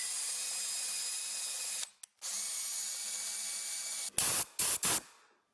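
A drill spinning a homemade wire brush end attachment runs steadily and close, stops briefly, restarts, then gives several short bursts, as when switching forward and reverse, with no talking.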